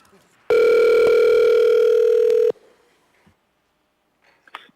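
A steady, loud telephone dial tone holds for about two seconds during a city assembly public hearing call, then cuts off, followed by faint clicks and quiet line noise.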